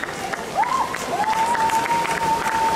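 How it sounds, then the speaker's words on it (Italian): Steady applause from the audience at the Miss Vesuvio 2024 pageant stage in Battipaglia honours the reigning queens, with a thin, sustained tone gliding over the clapping. "facciamo un applauso alle nostre reginette in carica."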